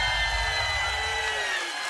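A festival crowd at Parookaville 2019 cheers for Darren Criss, a sustained roar of whoops and shouting that fills the whole moment, loud and continuous before easing slightly at the end.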